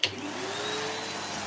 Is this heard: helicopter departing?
no